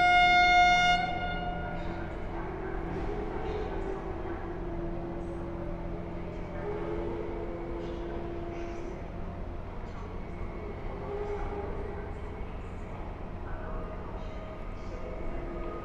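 The Intercity Słowacki train pulls into Warszawa Zachodnia station at night, a short horn tone at the start giving way to a steady rumble of wheels and carriages with faint clanks throughout.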